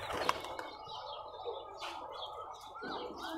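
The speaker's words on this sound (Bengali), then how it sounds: "খাড়া খেলের কবুতর।" Rajshahi local Geribaj pigeons fly overhead, giving faint, fluttering wingbeats and soft flaps amid light outdoor ambience, with occasional chirps.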